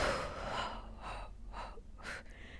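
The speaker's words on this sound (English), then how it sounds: "One more big inhale. And exhale." Deep breaths during a beginner Pilates mat workout: three or four broad, breathy inhales and exhales in steady rhythm, close and fairly soft, with no talking.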